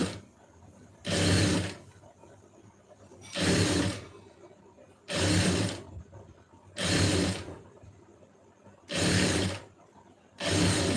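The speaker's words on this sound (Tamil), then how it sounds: "இப்படி மடித்து தையல் போடுங்க." Sewing machine stitching a folded hem in short bursts, five or six loud mechanical runs of rapid clatter separated by quiet pauses, close and clear.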